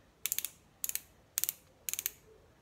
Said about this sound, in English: You hear that clicking sound, guys?